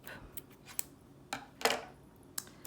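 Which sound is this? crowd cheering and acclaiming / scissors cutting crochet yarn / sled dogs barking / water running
scissors cutting crochet yarn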